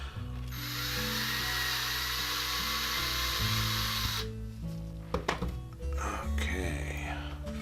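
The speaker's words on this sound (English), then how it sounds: "Let's get started drilling out. Got my drill." A small power drill whirs continuously at close range, drilling out a Matchbox Ford GT40 toy car, holding a steady high pitch before cutting off, followed by clicks, rattles and brief handling noises.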